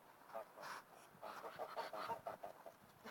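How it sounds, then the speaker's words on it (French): Hens cluck in short, soft bursts through the whole few seconds, fairly close, with faint human sounds mixed in. "on rentre toutes les poules"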